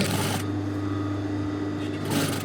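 A sewing machine runs steadily, stitching bias tape onto a fabric mask, a continuous close motor hum for the whole stretch.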